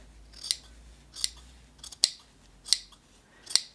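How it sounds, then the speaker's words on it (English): Five crisp scissor snips through fabric, evenly spaced about every half second to second, close up with a quiet room behind them. "these are not the best scissors for this really"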